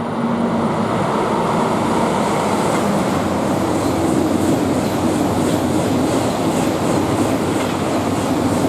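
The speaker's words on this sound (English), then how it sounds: "we see the classic 373 Eurostar fly through the middle section" A Class 373 Eurostar train speeds through Stratford International station, producing a loud, sustained rushing roar with steady rail noise throughout and no voices.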